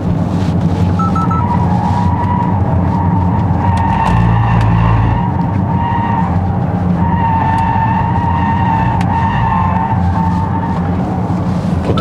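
Mercedes-AMG EQE 53 4Matic electric sedan accelerating slowly, its motor giving a steady grinder-like whine over constant road and tire roar, loud and close from inside the car, with no talking.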